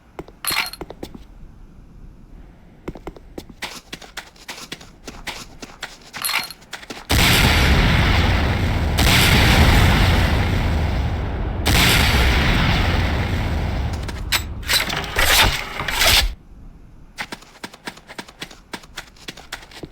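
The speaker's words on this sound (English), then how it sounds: "Next up is the Sakhal's A 66mm Type R12 Locust automatic rocket launcher." In the Command and Conquer Renegade tutorial, a Locust automatic rocket launcher fires. Sparse sharp clicks and shots give way to a long, loud roar of rapid launches and explosions, then scattered bangs fade out.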